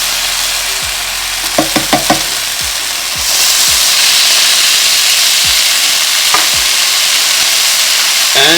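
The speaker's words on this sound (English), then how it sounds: "Now I add 2 cans of" Chopped canned tomatoes tipped into a hot frying pan, a few clunks and scrapes from the cans, then a loud, steady sizzle that swells as the tomatoes hit the oil, with occasional stirring knocks.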